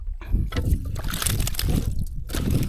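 Water sloshing and lapping against a small boat close by, in uneven splashes as it moves.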